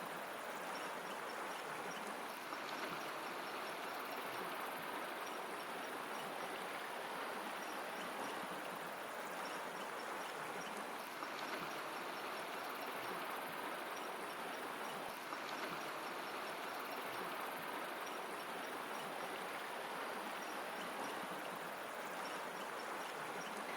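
Creek water in Idaho flows and babbles steadily, a soft, continuous rushing with no breaks and no voices.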